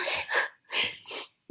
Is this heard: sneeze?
yes